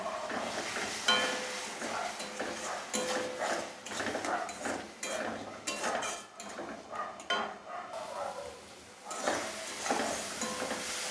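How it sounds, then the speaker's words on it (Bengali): Spice paste for a prawn dopiaza with turmeric, stir-fried after water is added, giving steady hissing sizzle with frequent spoon scrapes and pan clatter throughout, close and moderately loud. "এবারে জল দিয়ে কষিয়ে নেব"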